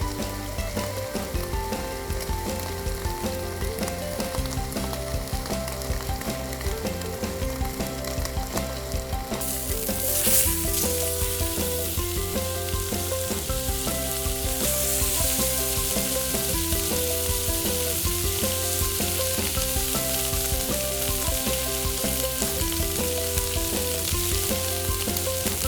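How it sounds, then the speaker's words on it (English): A striploin steak sizzles in olive oil in a skillet, a steady crackling fry that lasts throughout under background music. "Place the steak in and cook for about 3 to 5 minutes per side"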